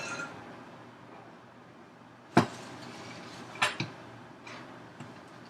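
A large 8-cup measuring cup, used as a mixing bowl for cheesecake glaze, is handled on a counter, giving a few sparse, sharp clinks and knocks against a quiet kitchen background.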